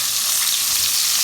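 Lollipop lamb chops sizzle in a piping hot skillet, a steady, loud hiss of spitting fat heard up close and on its own.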